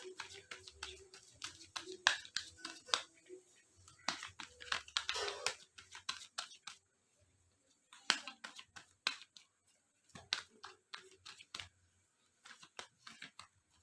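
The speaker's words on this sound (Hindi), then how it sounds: "मैं आपके लिए एक गाइडेंस की कार्ड ले लेती हूँ" Cards from a guidance deck being shuffled and drawn, a series of close, crisp flicks, snaps and papery rustles in irregular clusters separated by short quiet gaps, with no talking.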